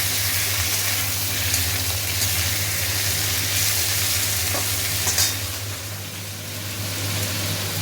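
Potatoes and tomatoes fry with ginger paste and salt in a pan, giving a constant loud sizzle with stirring scrapes throughout and no talking.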